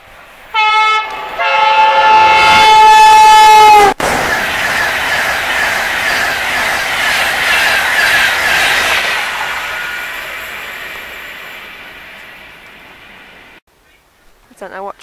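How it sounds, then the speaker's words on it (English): A Class 365 electric train passing at speed without stopping, opening with a loud horn blast, then a long roaring rush of wheels and carriages that fades out near the end. "Class 365."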